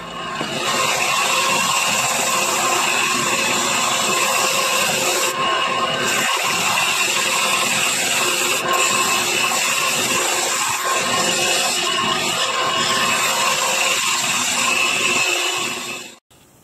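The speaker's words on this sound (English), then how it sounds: "I'll sand down to the line." A power sander works a barnwood frame down to a marked line, a loud, steady whirring drone with a grainy abrasive hiss lasting about sixteen seconds before cutting off abruptly, no talking.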